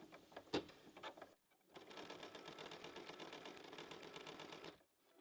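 An embroidery machine stitches a bunny head outline in black thread on a hooped bookmark, a steady, rapid mechanical chatter up close that pauses briefly after a few clicks, then runs continuously for about three seconds.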